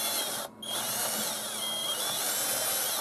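A cheap DEKO cordless drill driving a screw into wood, a close, loud whine of the motor that briefly drops out before running on steadily to the end.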